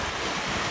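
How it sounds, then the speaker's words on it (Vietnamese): Loud, continuous surf from rough sea waves crashing on a rocky fishing shore, with wind buffeting the microphone throughout and no voices. "sóng ngập quá chết"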